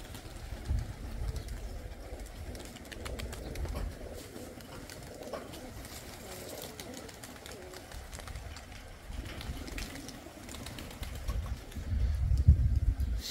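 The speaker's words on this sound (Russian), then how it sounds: "Все небо нахрен на голубях." Pigeons outdoors on a hot day give low, soft coos in brief bursts over a faint background hush, rising slightly louder near the end.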